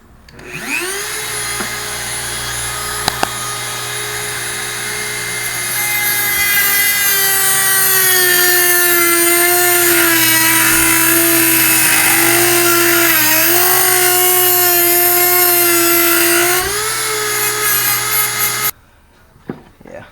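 A power tool cuts off excess bolt thread above a nut during an idle-mod install on a 2014-15 Honda Grom, whining loudly and steadily for about twenty seconds, its pitch dipping slightly under load before it stops abruptly.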